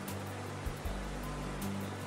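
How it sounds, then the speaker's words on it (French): Waterfalls and mountain torrents rush through the Ardèche gorges in autumn as a steady, broad, continuous roar of falling water with no break and no voices. "Les chutes d'eau et les torrents sont légion tout le long du chemin."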